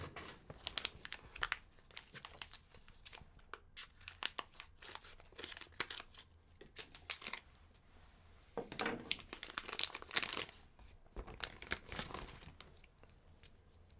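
Scissors snip and plastic packaging crinkles and tears in close, irregular bursts, with rustling handling noise throughout and no talking.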